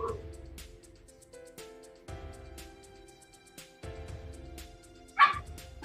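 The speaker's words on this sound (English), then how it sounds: "I'm sorry about the dog there" A puppy barks indoors at night, scattered yips and short barks spread across several seconds at moderate distance, with one sharper louder yelp near the end and no talking over it.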